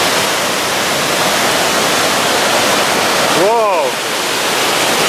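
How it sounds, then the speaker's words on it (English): A waterfall roars as a loud, dense, continuous wash of falling water close by, and a man briefly exclaims over it near the end. "Man, I love waterfalls"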